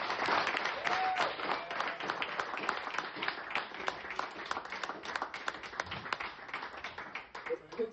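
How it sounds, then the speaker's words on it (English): A room full of people at a football club's annual general meeting claps steadily and warmly for several seconds, with voices mixed into the applause. "So huge round of applause for Neil."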